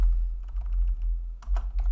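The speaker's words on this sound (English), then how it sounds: "So simply open up the search bar and type in disk management." Computer keyboard typing a short search query in Windows, heard as a quick run of close, light key clicks with a brief pause and a final cluster of taps, no talking.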